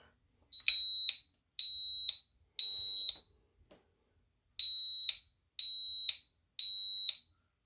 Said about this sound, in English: So we'll start with panic buttons. So it'd be loud.